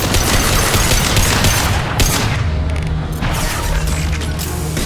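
Heavy gunfire from a firefight in Mass Effect 2, loud and nearly continuous bursts and booms with a dense low rumble that barely lets up, close and filling the whole stretch.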